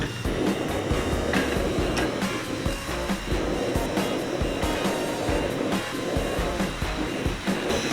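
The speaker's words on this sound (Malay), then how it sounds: "aku nak test untuk setiap jenis gas ni berapa lama masa yang diambil untuk panaskan ataupun boil air ni" A camping gas stove burns steadily under a pot of about 600 ml of water, giving a constant close, loud roaring hiss with no speech.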